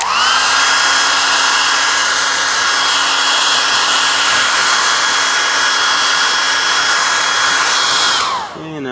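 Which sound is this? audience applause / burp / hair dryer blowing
hair dryer blowing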